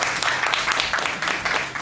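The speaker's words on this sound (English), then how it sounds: "Ya, kita kasih applause." A workshop audience claps together in a continuous, dense round of applause, fairly loud and even across the whole stretch with no voices.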